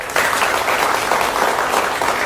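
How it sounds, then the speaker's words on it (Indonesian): Dense, loud applause from a live audience at a public event, a steady wash of many hands clapping together with no voices on top. "tepuk tangannya boleh"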